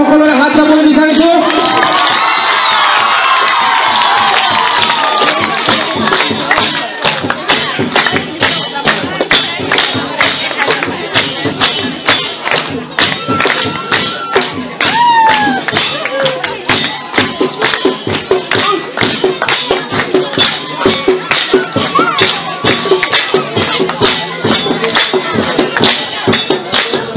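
A crowd greeting a guest at a Rabha-style welcome ceremony claps and cheers loudly, with dense, continuous hand claps, shouts and whoops, and voices calling out over the steady roar.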